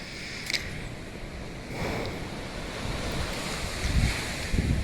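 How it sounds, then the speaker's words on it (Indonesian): Sea waves washing ashore at rising tide on a windy coast, a steady broad rush of surf with gusts buffeting the microphone and a few heavier low thumps near the end, no talking. "Ini kita bisa menyaksikan air laut yang sedang pasang."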